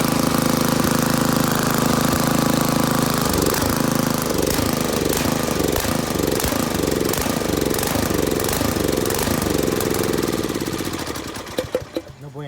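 A Craftsman tiller's Briggs and Stratton engine runs loud and close with a rough, rapid chugging and knocking rhythm, then winds down and sputters out near the end.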